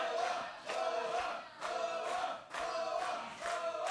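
A wrestling crowd in Chatsworth chants and cheers in rhythmic, evenly spaced swells, a collective roar rising and falling about four times, heard at a distance and fairly faint.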